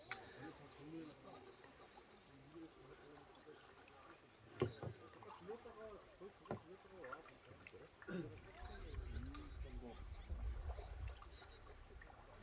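Small boat heading out across a fishing pond to retrieve a rod, soft water sloshing and paddling sounds that swell into a low rumbling churn toward the end, heard beneath someone talking throughout.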